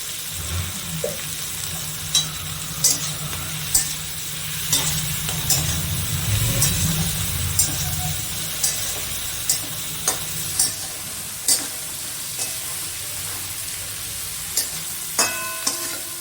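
Onions and spices fry in a pan with salt added, a continuous close sizzle punctuated by regular metallic clinks and scrapes of a spatula stirring, with a few quicker taps near the end.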